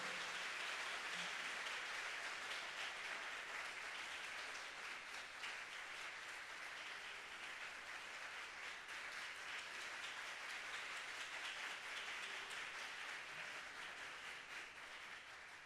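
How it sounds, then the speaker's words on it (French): A school quiz-show audience applauds the Collège Catherine Flon team captain, a faint, dense patter of many hands clapping steadily, heard at a distance and slowly fading. "Le capitaine du collège Catherine Flon, sous vos applaudissements"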